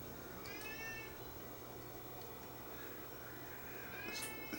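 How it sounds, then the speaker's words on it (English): A house cat howls and meows at a closed door, a few drawn-out wavering cries at moderate distance over a steady low hum, with a sharper cry near the end. "that cat will sit at the door and howl"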